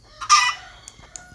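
A chicken in a Minecraft-style video game gives one short, bright cluck, followed by a couple of faint clicks.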